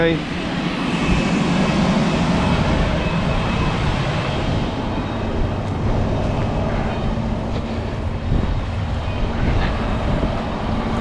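A Fendt 828 tractor from the 800 series runs while sowing barley, giving a loud, steady engine rumble with mechanical rattle, and a person talks over it.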